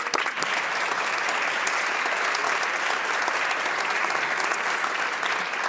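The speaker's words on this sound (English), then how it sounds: "join me in a round of applause" Sustained applause in the Canadian House of Commons, steady clapping throughout with no speech over it.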